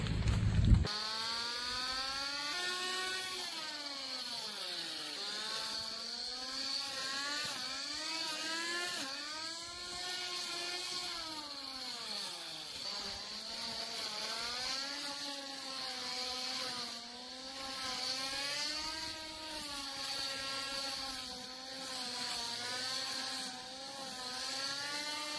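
A Ryobi 36V battery brush cutter runs continuously with a buzzing motor whine that repeatedly rises and falls in pitch as the trigger changes its speed, with no voices.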